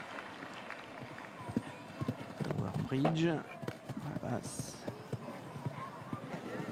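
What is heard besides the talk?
horse galloping hooves during show jumping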